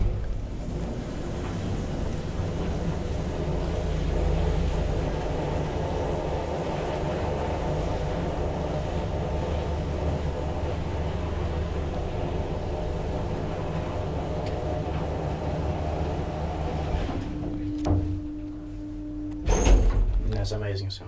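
A 1972 Kone traction elevator in an apartment building in Lahti hums steadily for a long stretch with a low motor drone, then near the end comes a brief tone and clunks as it stops and its doors move.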